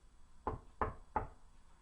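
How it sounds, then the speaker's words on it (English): Three firm knocks on a wooden door, evenly spaced and close, standing alone in a quiet room. "She knocked on the door."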